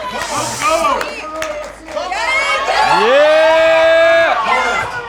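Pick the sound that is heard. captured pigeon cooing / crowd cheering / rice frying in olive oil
crowd cheering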